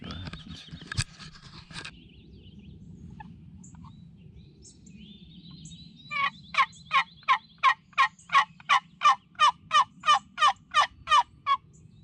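Wild turkeys gobble in a spring woodland, a rapid rattling series of about a dozen evenly spaced pulses from a distance, following a few fainter calls and a soft background hiss.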